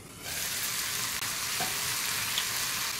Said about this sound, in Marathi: तुपात हिरवे वाटाणे 2 मिनिटं परतून घ्यायचे आहेत